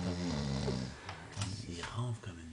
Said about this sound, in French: Il ronfle comme une bûche.